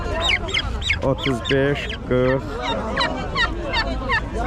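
Turkeys and geese at a poultry market in the Ismayilli bazaar gobble and honk in repeated overlapping calls, close by, while people talk over the birds.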